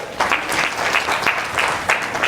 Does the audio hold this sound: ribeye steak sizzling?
no